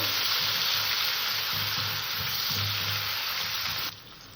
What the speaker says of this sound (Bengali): এবার আমি এখানে দিলাম পেঁয়াজ কুচি পেঁয়াজটাকে আমি হালকা করে ভেজে নেব